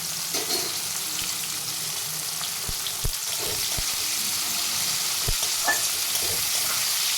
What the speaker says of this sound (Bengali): আমি একটু তেলের মধ্যে গরম মশলাটা দিলাম না, আমি আগে পেঁয়াজটাকে দিলাম